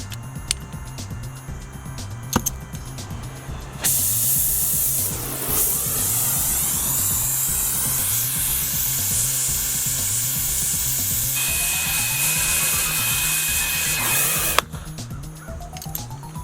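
A torch heats dowel pins in a Cletrac 20K tractor housing: a loud, steady roaring hiss runs for about ten seconds, starting and stopping abruptly, over a low rhythmic background.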